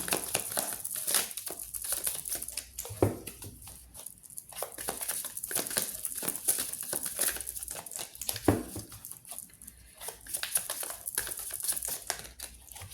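Tarot cards being shuffled by hand, a dense run of papery riffles, flicks and crinkly rustles close up, continuing steadily for several seconds with no talking.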